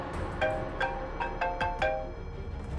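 A phone rings in a short, faint burst of repeated electronic tones, about five quick pulses spaced evenly, heard alone with no talking.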